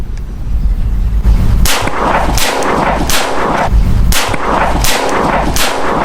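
A rapid string of sharp, loud shots from a Kuzey 1911 Colt Government blank pistol cracks out close by, about ten reports in an uneven rhythm with ringing echoes between them.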